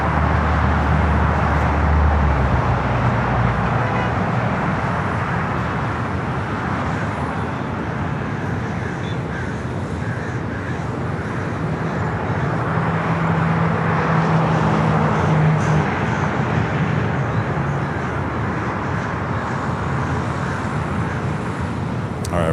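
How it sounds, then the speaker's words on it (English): A Boeing 787 Dreamliner bound for Casablanca begins its takeoff roll on runway 25 Left at LAX, a steady broad jet roar that holds loud and constant throughout, with no talk over it. "The Dreamliner heading back to Casablanca. Now starting to roll here on the south side."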